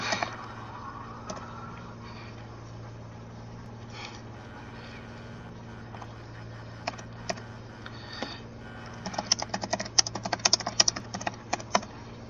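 Rapid clicking of a computer keyboard while playing Roblox ER:LC, faint and sparse at first over a low steady hum, then building into a dense flurry of close, crisp keystrokes near the end.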